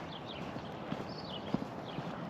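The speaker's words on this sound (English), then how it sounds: "This is a new horse too." Horse hooves clip-clopping at a stable with hay, a few distinct thuds spaced irregularly at moderate distance over soft background rustle, with no talk.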